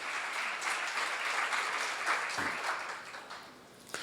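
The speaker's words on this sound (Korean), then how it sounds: "박수 치시기 바랍니다" A seminar audience at a church gathering claps in a sustained, fairly distant wash of applause that holds steady before tapering slightly near the end.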